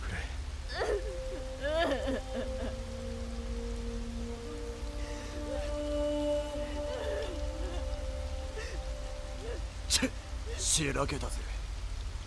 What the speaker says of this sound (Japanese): 雨が強くなってきた。